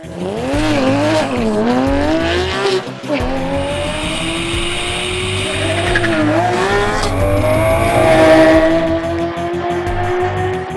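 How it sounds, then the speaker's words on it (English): A Porsche GT3 runs down a drag strip, its engine loud and close as it revs up through rising gear pulls with tire noise underneath, a continuous roar throughout. "it was a weapon down the drag strip, thanks to changes to the driveline and the final drive ratio"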